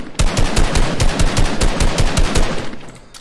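Rapid automatic gunfire in Fortnite, a loud close burst of evenly spaced shots rattling steadily for about three seconds with no talk.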